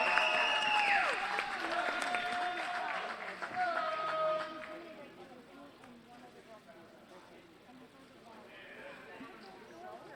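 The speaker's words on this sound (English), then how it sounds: "A round of applause for Eve Berg." Crowd applause at a college swimming meet between Iowa Central and Iowa Lakes, a broad wash of clapping and cheering over announcer-style speech, loud at first and thinning out after about five seconds.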